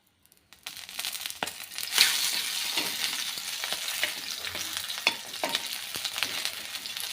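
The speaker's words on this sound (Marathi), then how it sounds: "मस्तपैकी तेलावरती आपण थोड्याशा परतून घेऊया मिरची ही उडते तेलामध्ये याची पोटं फुटायला लागतात" Green chillies fry and pop in oil on a griddle, a steady close sizzle broken by frequent sharp crackles and spits, with no talking.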